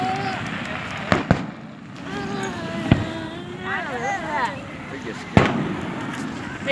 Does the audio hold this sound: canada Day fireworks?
yes